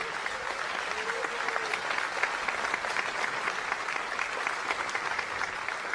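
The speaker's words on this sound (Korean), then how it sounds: "네, 다시 한번 대통령님께 큰 박수 보내주시기 바랍니다." Sustained applause from an audience at a presidential inauguration ceremony for the 21st president, a dense steady patter of many hands clapping continuously throughout, with crowd noise beneath and no clear speech.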